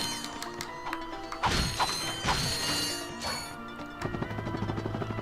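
Crates smashing in the 2002 video game Ratchet & Clank: a loud run of wooden breaking and thwacking hits in quick succession over busy game music and mechanical effects.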